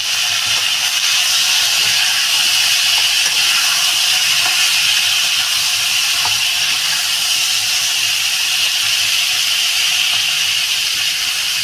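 Cut potatoes and eggplant dropped into a hot pan give off a loud, steady, hissing sizzle that holds evenly throughout, close and continuous with no talk.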